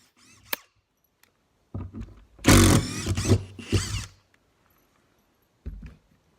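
A cordless drill drives a screw into fresh wood: a couple of close, whining motor bursts build in the middle, then one short final burst after a pause, with no voices.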